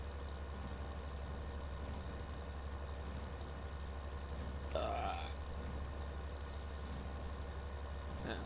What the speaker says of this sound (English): Hot dogs make me burp.